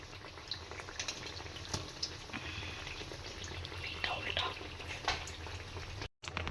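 Thick slices of eggplant in gram-flour batter (beguni) deep-frying in hot oil in a home kitchen, giving a steady, moderately loud bubbling sizzle that runs unbroken throughout, with a brief cut near the end.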